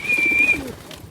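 Pigeons cooing as they gather for scattered wheat, a single close soft coo carrying a faint whistling tone, brief and alone.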